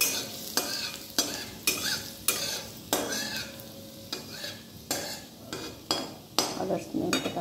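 Chopped ginger fries in oil while being stirred for a breakfast dish, with repeated scraping strokes of a utensil against the pan over a steady sizzle, close and fairly quiet, no talk.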